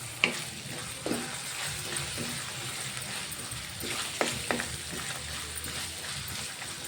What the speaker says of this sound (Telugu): కొంచెం ఫ్రై అవ్వాలి ఇందులోనే.